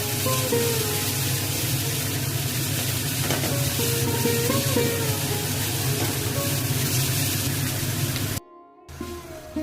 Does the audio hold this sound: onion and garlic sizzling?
yes